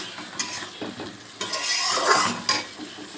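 Potatoes stir-fried in a pan with turmeric and a paste of ginger, cumin, green chilli and dried chilli: scraping stirs and clinks of a utensil over a soft, close sizzle, with a louder, denser frying hiss in the middle.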